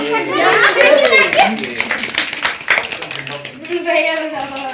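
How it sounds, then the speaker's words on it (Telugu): Children at a birthday party clap in quick, uneven bursts close by, while kids chatter and call out over the clapping throughout. "క్లాప్స్ కొట్టానరా"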